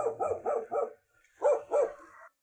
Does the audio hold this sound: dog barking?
yes